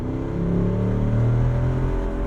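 A 2024 Jeep Wrangler 392 V8 with its exhaust baffles open gives off a deep, steady baritone snarl that swells and holds close up, with no talking over it.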